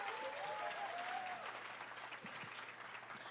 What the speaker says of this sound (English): Let's give another warm round of applause for Quinta, please.